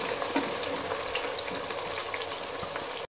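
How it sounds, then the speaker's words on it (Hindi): Onions dropped into hot cooking oil for Sindhi beef biryani give a steady, close broadband sizzle that holds evenly for about three seconds, then cuts off abruptly. "ऑयल गर्म हो गया, मैं इसमें प्याज डाल देती हूँ।"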